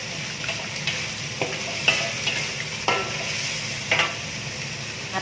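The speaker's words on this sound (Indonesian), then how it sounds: "Kita tumiskan sampai bawangnya udah mateng." Onions being stir-fried in a pan over low heat for a spinach and stingray dish, giving a steady sizzle with occasional scraping clicks of the spatula, close up and with no voices.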